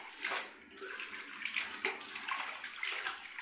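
Water running and trickling out of washed baby clothes set in a kitchen sink, a steady splashing drain with a few louder gushes, close by and heard alone.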